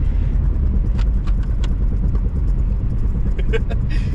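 A cheap $300 car driving along with a rough, constant low rumble of engine and road noise, with scattered clicks and rattles throughout.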